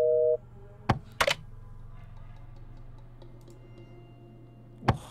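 In a horror video game, a phone line is hung up: a short tone cuts off, followed by a faint low hum and a few sharp clicks, one coming near the end.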